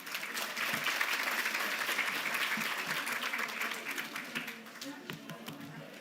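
Sustained applause from an audience after a Public Art Year in Review session at an arts summit, steady dense clapping that holds for several seconds and tapers slightly near the end.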